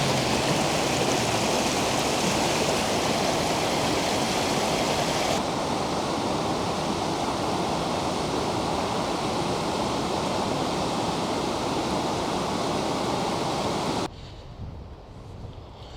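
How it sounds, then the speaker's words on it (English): Steady, loud roar of a waterfall in the Swiss Alps, a continuous broadband rush heard close by that drops away abruptly near the end. "I want to go closer to the waterfall"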